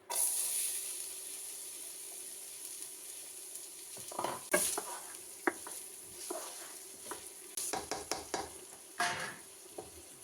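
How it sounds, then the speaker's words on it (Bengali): Onions tipped into hot oil for a chicken bhuna set off a hissing sizzle, followed by scattered clinks and scraping bursts of stirring, close and moderately loud, with no talking. "এখন আমি এর মধ্যে পেঁয়াজগুলি ঢেলে দিচ্ছি।"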